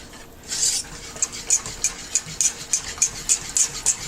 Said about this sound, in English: Whisk it some more.